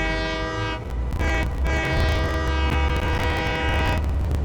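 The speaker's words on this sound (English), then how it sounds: "Oh, here comes a train. Toot toot. I love the horn." In the Satisfactory video game, a train's horn blares loud and sustained as a steady, multi-tone chord over the deep rumble and clatter of the passing train.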